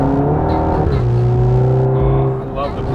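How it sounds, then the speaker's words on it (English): Modified 2016 VW Golf R engine pulling hard from inside the car, its steady drone dropping in pitch as a gear changes with a short exhaust pop, under a voice talking. "I love the pop from the exhaust when you shift."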